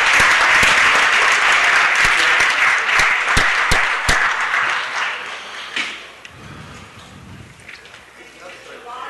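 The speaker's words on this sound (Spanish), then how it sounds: "por favor, denle un aplauso" Applause for Linda Richard at a Los Angeles city council meeting, a steady roomful of clapping that thins and fades over several seconds, leaving quieter room noise and a murmur.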